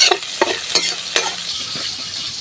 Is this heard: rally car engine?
no